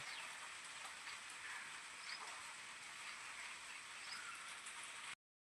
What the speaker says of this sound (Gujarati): આજે તો વરસાદ આવી ગયો છે